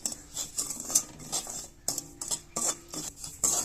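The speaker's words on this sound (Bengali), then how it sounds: "প্রথমে সুজিটা একটু শুকনো খোলায় একটু নাড়াচাড়া করে নেব" Semolina dry-roasts in a wok while a spoon stirs it, giving a run of quiet, rhythmic scraping strokes about every half second, with light metallic clinks.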